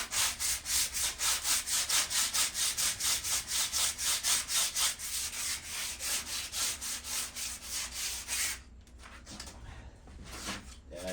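Rusted metal patio furniture is sanded by hand in fast, even back-and-forth strokes, a loud rhythmic rasping that slows and then stops near the end, leaving quieter scattered scrapes.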